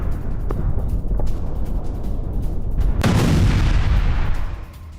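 A deep, heavy explosion booms out near Israel's Sdot Micha base amid constant low rumbling, followed by a rolling roar that fades after a few seconds.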